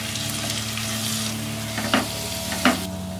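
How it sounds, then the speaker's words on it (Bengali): Whole spices, cumin, coriander and red chilli powder, fry in hot oil for a cauliflower malai curry, a loud steady sizzle with two sharp spatula scrapes near the end. "মশলাটাকে ভালো করে একটু কষিয়ে নিতে হবে।"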